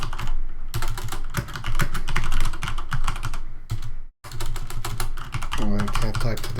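Fast, steady typing clatters on a computer keyboard up close, with a brief pause midway and a voice speaking near the end.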